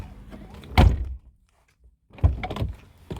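The door of a Chevrolet Sierra truck gives two solid thunks about a second and a half apart, the first followed by near silence, the second trailing into rattling and handling noise.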